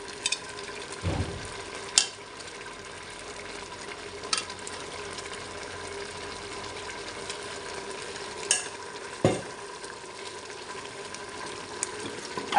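Black chickpeas frying in cooking oil with a low, steady sizzle, broken by a few sharp clanks and scrapes of stirring against the pan, close and fairly quiet.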